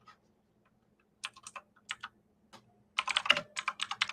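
Close computer keyboard typing, starting with a few scattered keystrokes and then settling into a quicker run of clicks near the end. No one talks.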